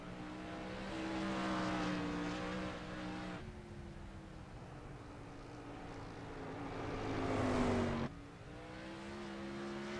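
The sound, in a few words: 360 sprint car racing around Irwindale Speedway in qualifying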